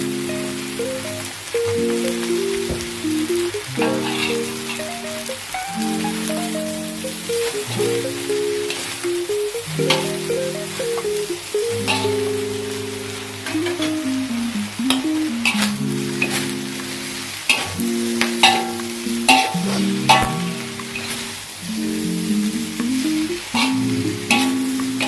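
Vegetables are stir-fried for fried bihun in a hot pan, sizzling steadily under repeated spatula scrapes and clanks, while a melodic tune plays in the background.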